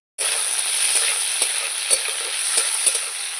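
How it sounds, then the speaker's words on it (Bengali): Prawns sizzling in hot oil, a loud, close and steady frying hiss with a few sharp pops and stirring clicks scattered through, no voices. "প্রথমে চিংড়ি মাছটা ভেজে নেব।"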